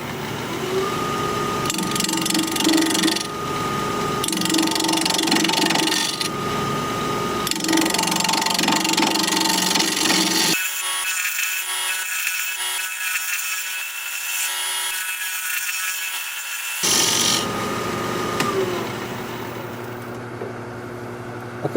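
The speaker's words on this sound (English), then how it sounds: "We're going to be turning at 1400 RPM, 5/8 inch bowl gouge," A wood lathe spins a bowl blank at 1400 RPM while a 5/8 inch bowl gouge cuts it, producing a steady mechanical whir with tonal hum and bursts of rougher cutting noise, broken by a quieter stretch in the middle.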